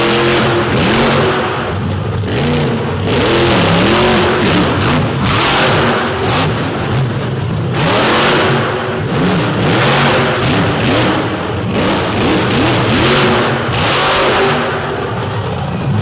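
A monster truck engine revs hard and repeatedly at an arena show, loud and close, its pitch climbing and falling in bursts as the truck whips through turns and jumps, with a constant crowd and arena wash underneath.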